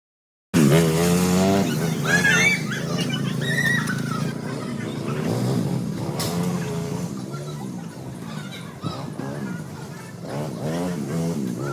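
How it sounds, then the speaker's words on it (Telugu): An ATV quad bike ridden at a resort, its steady engine drone running through the whole stretch with people talking over it. "మా హస్బెండ్ ఏటీవీ బైక్ రైడ్ చేశారు."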